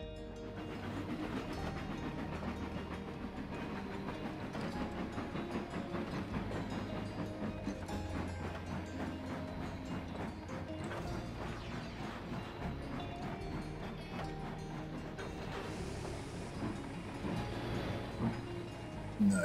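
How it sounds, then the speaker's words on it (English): A train in Trainz Simulator 2019 rumbles along with continuous rolling wheel noise and rhythmic rail clatter, and a brief clunk at the very end could be the uncoupling. "That should uncouple the train from everything."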